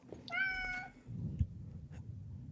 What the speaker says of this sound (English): I don't know which one of y'all's cats that is.